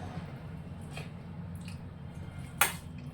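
Hot rice being mashed by hand with ghee, boiled dal and boiled potato, giving soft wet squishing sounds close to the listener, with one sharper sticky smack partway through.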